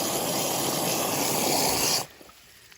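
Water rushes steadily into a livestock trough from a stuck float valve, a close, continuous hissing gush that cuts off abruptly near the end, leaving near silence.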